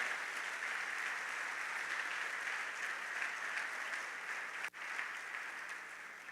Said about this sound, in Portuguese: Você pode dar um aplauso pelo sangue do Cordeiro?